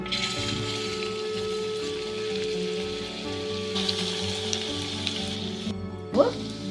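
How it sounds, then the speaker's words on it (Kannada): Onion egg bonda frying in hot oil on a medium flame, a steady close sizzle with a brief louder crackle near the end. "ಎಣ್ಣೆ ಕಾದೈತಿ ಎಣ್ಣೆ ಒಳಗ ಹಾಕ್ಕೊಳ್ಳೋಣ"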